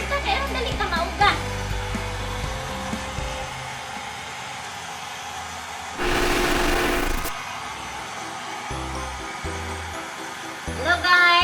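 An electric blower whirs as it dries a dog after its bath, a harsh steady rush that starts and stops in bursts, with a person talking in between.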